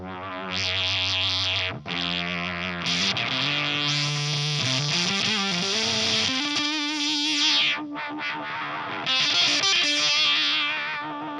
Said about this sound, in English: Get this really synth-like distortion out of this.